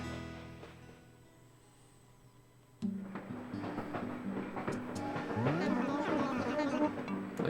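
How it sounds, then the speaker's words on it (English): A lazy villager's voice from the Animal Crossing video game: a low, drawling stream of garbled syllables that starts after a quiet stretch and carries on steadily through the rest of the clip. "that's the sound of a lazy villager"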